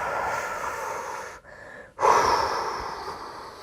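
Close, deep breathing during a stretching exercise: a long airy exhale, a short pause, then a strong, noisy inhale that slowly tapers off.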